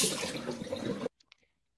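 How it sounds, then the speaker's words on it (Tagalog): Running water pours steadily into a bucket for about a second, then cuts off abruptly, leaving a few faint drips and small splashes in the quiet. "Sabi nila, oy, napuno na yung balde tubig."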